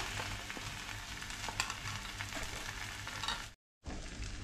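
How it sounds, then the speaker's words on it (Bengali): Spices such as cumin and coriander powder going into a hot pan for a palak paneer base, giving a steady close sizzle of frying with scraping stir sounds, briefly cut off before resuming. "এবার আমি পরবর্তী মশলাগুলো দিয়ে দিচ্ছি।"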